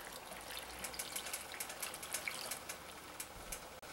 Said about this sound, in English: I'm going to finish it off by adding 4 more cups of water.